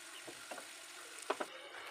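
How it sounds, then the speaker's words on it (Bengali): Potatoes stirred in hot oil in a Bengali kitchen while making alu posto, a faint steady sizzle with a few soft scraping clicks of the spoon near the end. "আমি আলুটাকে একটু ভালো করে প্রথমে একটু নাড়াচাড়া করে নিচ্ছি গরম"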